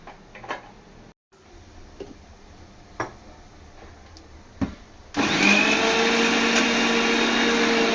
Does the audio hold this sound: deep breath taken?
no